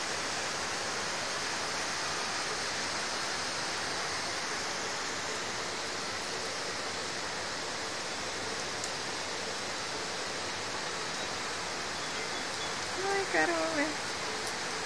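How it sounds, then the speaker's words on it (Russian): Light rain falls steadily across a mountain meadow at a ski resort, producing a soft, even patter, with faint distant sounds near the end. "Дождичек капает."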